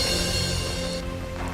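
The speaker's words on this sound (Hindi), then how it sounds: "बारिश की रिमझिम फुहारों को ही लीजिए," A light drizzle of rain falls in a steady, soft, continuous hiss, heard alone with no voices.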